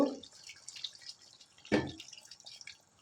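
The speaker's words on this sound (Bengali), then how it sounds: "এবার ফার্স্ট জল ইউজ করছি আমি রান্নায় সাধারণত" Water goes into a pan of chicken kosha: a few faint drips, then one short, clear splash, close by in a quiet kitchen.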